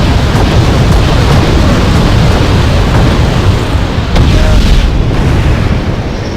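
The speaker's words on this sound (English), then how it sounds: "now they got two of my tanks, T-55s, with this rocket barrage" Rocket barrage explosions in a war video game striking T-55 tanks, a dense, loud, continuous rumble of booms and blasts throughout, with a faint voice underneath.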